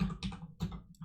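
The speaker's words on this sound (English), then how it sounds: "hello, I'm typing." Keyboard typing in short bursts of quick taps, close and moderately loud, with a low steady hum running underneath during a Wargame Red Dragon unit-ranking session.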